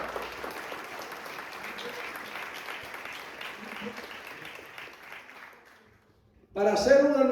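A congregation at an evangelical church service applauds steadily for several seconds before the clapping fades to near silence, and then a voice starts speaking.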